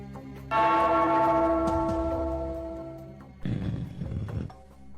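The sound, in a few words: bell being rung in a cartoon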